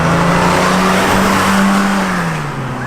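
Twin-turbo Lamborghini launching in a dig race, a loud, close engine roar with a strong steady tone that rises slightly, then eases and dips as the car pulls away, tire noise mixed in.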